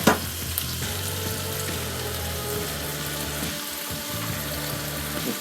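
Thai meatballs browning in a pan produce a loud, continuous frying sizzle that holds steady throughout, with no voices over it.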